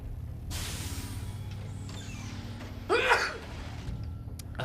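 A single sharp sneeze bursts close into an open microphone over a quiet background of game sounds during a StarCraft match broadcast.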